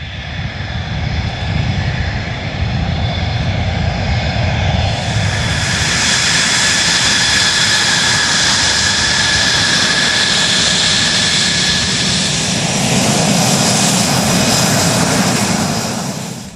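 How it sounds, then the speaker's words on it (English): A Hellenic Air Force F-16 Block 50 fighter jet's engine roars steadily while taxiing near idle, a loud continuous whine and rumble that swells slightly partway through, with no talk. "Taxiing the airplane is also fascinating because the airplane has so much goddamn thrust."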